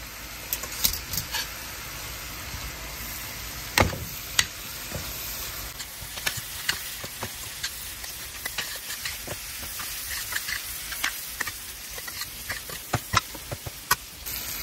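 Fried bitter gourd is stirred into a sizzling pickle mixture in a pan, a steady soft hiss broken by repeated sharp scrapes and clacks of the spoon against the pan.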